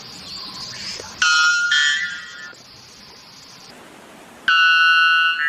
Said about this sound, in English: White bellbird.